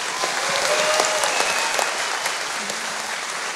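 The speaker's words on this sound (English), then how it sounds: "I would like to have everybody give her a round of applause" A political rally crowd on the Pine Ridge reservation in South Dakota breaks into sustained applause, a dense wash of clapping heard from some distance, steady and moderately loud with a few whoops over it.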